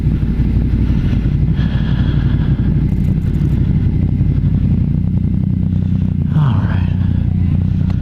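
Motorcycles cruise the Pacific Coast Highway with a loud, constant engine drone and wind rumble. One bike passes near the end over the steady road noise.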